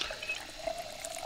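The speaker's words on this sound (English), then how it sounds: "Fill the water bottle. Fill the empty bottle as well." Water running from a tap into a bottle in the video game Project Zomboid, a short, soft steady trickle with light splashing heard alone.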